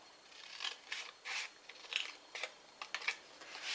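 Scissors cutting a notch into a cardboard box, a series of short crisp snips and rasping cuts, about eight in quick irregular succession, close and fairly quiet with no talk.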